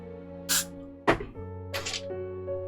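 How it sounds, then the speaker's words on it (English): Hairspray is sprayed onto a cosplay wig in three short hissing bursts, close and crisp, over a steady background hum of indoor music or electronics. "Spray with some hairspray."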